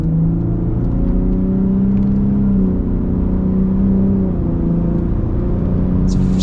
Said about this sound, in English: You gotta build up some boost because it's turbocharged, but it's pretty darn solid.